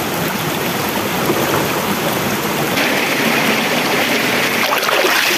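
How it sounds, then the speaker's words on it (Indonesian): A river rushes below a shelter during rain, a loud, steady broadband wash of flowing water with no break. "di bawah sana ada sungai"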